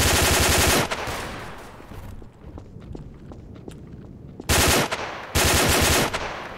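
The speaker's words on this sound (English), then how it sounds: "Stop shooting." Video-game gunfire in Garry's Mod DarkRP: loud sustained automatic bursts open the scene, drop to scattered distant shots and footsteps, then two more dense, close bursts near the end.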